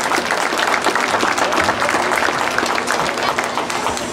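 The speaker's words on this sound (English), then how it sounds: "I'd like to give all the exhibitors that exhibited today a big round of applause." A crowd at a junior livestock show claps for the exhibitors, loud, sustained applause from many hands with individual claps audible throughout.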